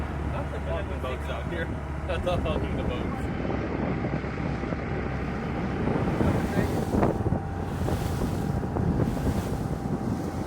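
Tour boat cruising on the Nile River: a steady engine rumble mixed with gusty wind buffeting the microphone, with indistinct voices in the background throughout.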